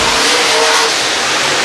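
Race cars roar past at State Fair Speedway heading into turn one, a loud dense engine rush filling the whole clip without a break.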